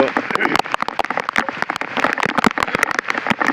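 Heavy downpour drumming hard and dense up close, a continuous rush with sharp individual drop hits throughout, and a voice briefly audible beneath it.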